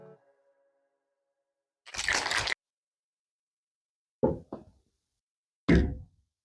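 An aerosol paint can with a small red cap gets handled: one broad scraping burst, then three sharp pops or knocks, spaced apart against silence and fairly quiet.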